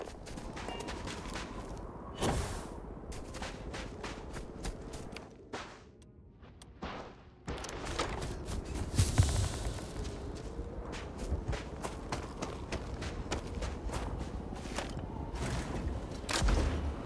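Gunfire in the Starfield video game: scattered sharp cracks and bursts of shots, some near and many distant, over a steady background rumble, with a short quieter lull in the middle.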